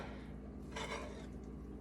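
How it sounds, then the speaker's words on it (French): A lid set on a cooking pot holding sausage, potatoes, peppers and corn, heard as a single soft metallic clatter over a steady kitchen background. "Je vais mettre mon couvercle ici."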